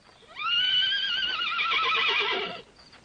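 A horse gives a long, quavering whinny, loud and clear for about two seconds, with faint hoof clops around it, in a Western setting.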